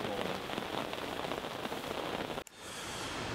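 Rain drumming on a fishing bivvy beside a private lake in Norfolk, a dense close patter of drops on the fabric that cuts out abruptly, followed by a softer continuous hiss.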